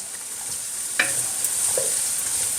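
Sliced green chilies stir-fried with tauco in a pan, a steady soft sizzle running throughout, with one sharper clink of a utensil near the start and faint scraping; no talking.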